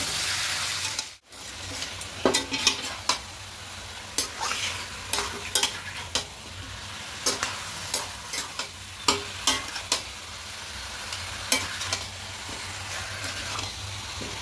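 Chicken biryani is stirred and mixed in a sizzling pan, with a constant frying hiss and repeated sharp scraping strokes of a utensil at an uneven rhythm.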